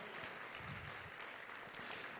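Church congregation applauding, a steady dense patter of clapping from a crowd, fairly faint and continuous throughout.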